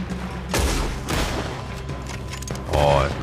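Gunfire in Red Dead Redemption 2 during a supply wagon robbery, several loud close booming shots and bursts in quick succession with an echoing tail, with voices talking over the shooting.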